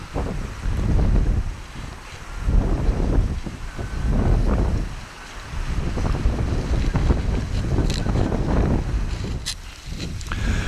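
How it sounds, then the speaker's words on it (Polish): Strong wind buffets the microphone beside the water, heavy low rumbling gusts that rise and fall in waves and fill the whole clip, with no talking. "Za bardzo wieje, pewnie i tak nic nie będzie słychać."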